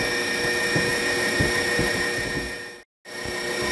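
An electric stand mixer whipping cream into butter runs with a steady, loud mechanical whir and faint rhythmic thumps, cutting out briefly near the end before resuming.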